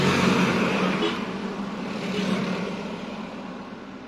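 Palm kernel trucks rumble past along a road leading to a port, a broad continuous drone of heavy traffic that swells and fades slightly, with no voices.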